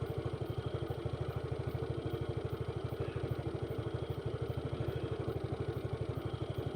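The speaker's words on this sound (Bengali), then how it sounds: "দিদি স্কুটি চালাচ্ছে দেখো সবাই" A scooter ridden along a street in front of a Shani temple gives a steady, close motor drone with a fast regular pulse and a faint clatter, running alone for the whole stretch.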